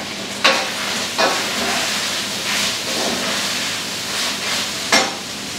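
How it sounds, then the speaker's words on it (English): A milk and cream of mushroom soup mixture is stirred in a pan over a constant hissing, frying sizzle, with a few sharper scrapes of the spoon, close and moderately loud, no talking. "Hold on, let me stir this."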